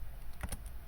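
Typing on a computer keyboard while writing Python code, a few quick soft key clicks close to the microphone over quiet room hiss.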